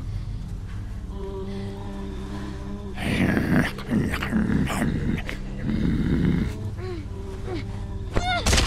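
A dog growls in The Walking Dead video game, low and snarling in repeated close bursts amid game impacts and thuds.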